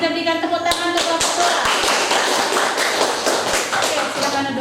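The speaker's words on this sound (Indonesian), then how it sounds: "Mari kita berikan tepuk tangan untuk kelompok" Classroom of students clapping for a group that has just finished presenting, a burst of sharp, uneven claps close by, thinning and scattering as it goes on.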